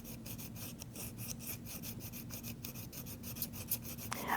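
Double shears with a bent handle are sharpened by hand with a file, making quiet, rhythmic rasping strokes in a steady back-and-forth series, alone and close.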